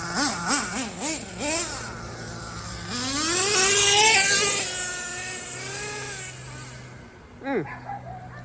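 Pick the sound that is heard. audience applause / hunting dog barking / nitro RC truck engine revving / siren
nitro RC truck engine revving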